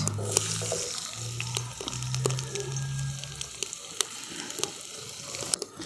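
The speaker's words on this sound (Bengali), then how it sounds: "তেলটা গরম হয়ে গেছে দিয়ে দিচ্ছি কেটে রাখা পেঁয়াজ" Chopped onions hitting hot oil in a wok make a continuous close sizzle, punctuated by sharp clicks and taps of a utensil against the pan and a low hum underneath.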